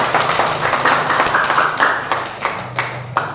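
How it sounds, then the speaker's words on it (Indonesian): Students applauding together in a classroom to reward a classmate's answer: a dense burst of hand clapping, close and steady, with a few louder claps standing out toward the end. "Kasih aplaus untuk Dewa dulu."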